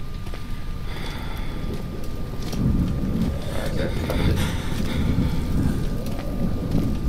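Wind blows in a low, steady rush in the horror video game Amnesia, gusting a little stronger partway through.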